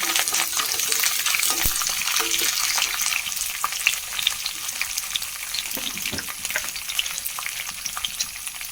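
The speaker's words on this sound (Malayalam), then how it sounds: "കറിവേപ്പിൻ്റെ എല്ലാം കൂടി ഒന്ന് ഇട്ട് കൊടുക്കാം അതും കൂടെ നന്നായിട്ടൊന്ന് മൂത്ത് വരട്ടെ" Curry leaves and puffed rice snack ingredients fry steadily in a pan, giving a continuous close sizzle with scattered crackles and pops throughout, without talk.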